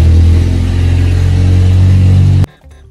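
A pickup truck engine gives a loud, close, deep rumble that holds steady for over two seconds, then stops abruptly, leaving only faint low traces. No one talks over it.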